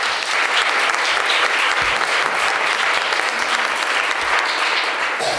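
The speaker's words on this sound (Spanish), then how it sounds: "Por favor, un aplauso." An audience claps enthusiastically, dense, even applause sustained for several seconds without a break.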